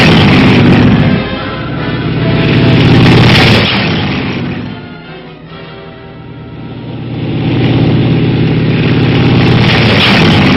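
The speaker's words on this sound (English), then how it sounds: "Tanks move up on the flank." WWII tanks moving up on a flank, a loud rumbling engine roar with clanking that swells, fades and builds again, heard in an old, band-limited recording.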